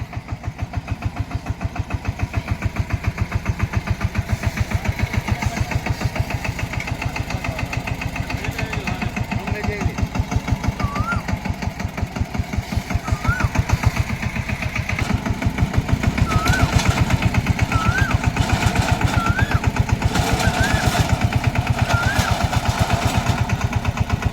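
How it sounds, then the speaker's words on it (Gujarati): A heavy diesel tractor engine chugs steadily at idle, revving up a little partway through and running continuously, loud and close. "મુહૂર્ત પણ કરવાનું છે અત્યારે ચાલુ ટ્રેક્ટર"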